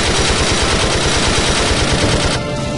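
Sustained, loud gunfire fills the Valkyria Chronicles III battle, a dense rapid stream of shots with no gaps, close and continuous throughout.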